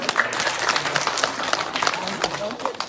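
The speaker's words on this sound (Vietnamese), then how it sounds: "cho một tràng pháo tay" Audience applause at a Buddhist master's Dharma talk in the USA, a dense crackle of many hands clapping steadily for about three seconds in a reverberant hall.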